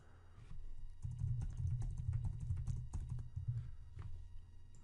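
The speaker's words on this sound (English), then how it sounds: "now you can start typing whatever you want" Soft typing on a computer keyboard, quiet and irregular key taps over a low background hum, with no talk.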